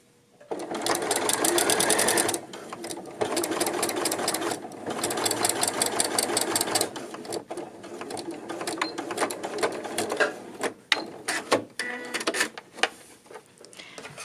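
A sewing machine backstitches to lock a seam on a dolman sweater, running in loud, fast bursts that start and stop as it goes forward and back, with short pauses and scattered clicks between runs.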